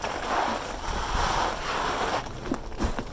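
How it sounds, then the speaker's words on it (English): Potted fig plants are watered in with a seaweed feed, giving a continuous splashing, rushing pour of water that fades into a few softer drips and taps near the end, with no voices. "I'm going to show you how I water them in now"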